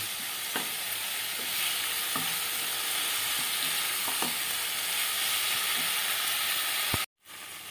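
Spice masala for Bengali tangra fish curry sautéing in a pan, a steady loud sizzle and hiss with scattered scraping stirs, continuous for about seven seconds before cutting off abruptly.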